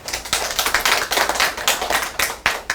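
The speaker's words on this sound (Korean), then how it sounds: "큰 박수로 맞아주십시오." Audience applause welcoming a Korean-language teacher onto the stage at a high-school admissions information session: steady, dense clapping from a crowd, fairly close, with no talking.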